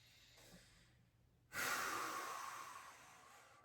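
A deep breath during transverse abdominis exercises: quiet background, then a strong, close exhale rushing out for about two seconds and slowly fading.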